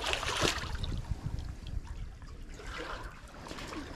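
Water trickles and splashes softly at a spring fishing spot, a faint, uneven babble with a brief louder burst near the start, then quieter dribbling outdoors with no talk.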